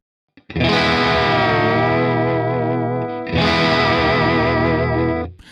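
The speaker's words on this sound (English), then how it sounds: "We have a vibrato lever, also known as a whammy bar." A sustained distorted electric guitar chord warbles as its pitch dips and rises with the whammy bar, then is struck again and bent once more.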